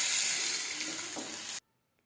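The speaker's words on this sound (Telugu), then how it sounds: "1 స్పూన్ ధనియాల పొడి వేసి బాగా కలుపుకోవాలి" Masala of turmeric, chili powder, salt and coriander powder sizzling and frying in a pan for a paneer curry, a steady close hiss that cuts off abruptly after about a second and a half.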